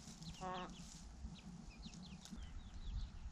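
Hens and chicks clucking as they forage around a farmyard, several soft calls and a short rapid cackle scattered over steady low background noise.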